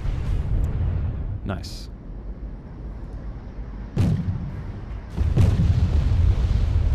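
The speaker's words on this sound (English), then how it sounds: "I'm just gonna bombard his fob." Artillery bombardment in the video game Wargame AirLand Battle: several heavy booming blasts land at intervals over a low rumbling battlefield bed, with a voice speaking briefly.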